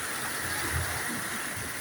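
The flooded Khowai river, running above the danger level, rushes past with a dense, steady roar of turbulent water, loud and close, with no voices over it.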